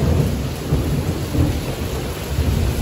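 Heavy rain pours steadily with deep rumbling thunder rolling underneath, a dense continuous roar close by with no voices.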